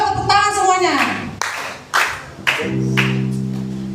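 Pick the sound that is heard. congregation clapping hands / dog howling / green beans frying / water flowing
congregation clapping hands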